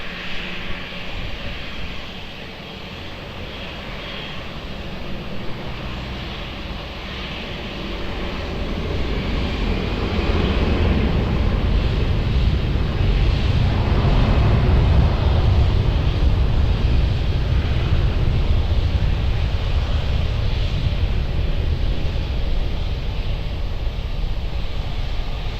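An airliner takes off from runway 20 at Lisbon Airport, its engine roar swelling from a distant hum to a loud sustained rumble, then holding steady with no talk.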